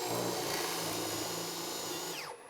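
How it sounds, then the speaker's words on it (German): A power drill bores angled holes in wood through a drill jig while building out a camper van. It whines steadily and close up, then spins down and stops near the end. "Als nächstes bohre ich noch so ein paar schräge Löcher, dass man die Seitenteile noch in der Wand und im Boden verschrauben kann."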